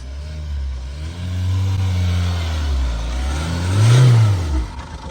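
A Mahindra Thar Roxx SUV engine revs as it climbs an off-road slope, a close, loud, low drone that rises and falls, then surges to a peak near the end before easing.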